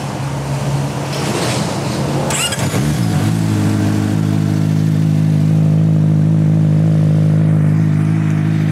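A CFMOTO motorcycle engine starts with a brief sputter, then settles into a loud, steady rumbling idle close by, with a faint wash of background noise.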